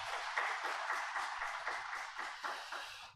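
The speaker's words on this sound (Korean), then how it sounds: "박수 올려드리겠습니다" Congregation applauding during a Korean Sunday church service, a steady wash of many hands clapping at moderate distance, swelling in small surges and fading out after about three seconds with no talk.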